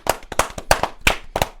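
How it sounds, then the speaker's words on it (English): A few people clap for a guest in a podcast studio, giving sparse, distinct close handclaps in an uneven rhythm over under two seconds, with no talk. "I don't deserve the round of applause"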